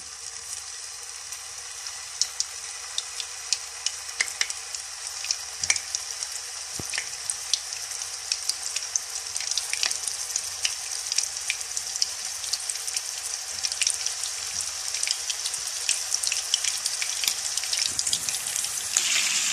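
Chicken koftas shallow-frying in hot oil in a pan, a steady close sizzle with scattered crackles and pops throughout, no voices.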